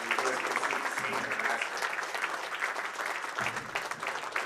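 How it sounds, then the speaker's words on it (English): A bowling center crowd applauds bowler Parker Bone at the PBA50 USBC Senior Masters finals, steady moderately distant clapping with an announcer's voice running over it. "Ladies and gentlemen, how about a round of applause for Parker Bone"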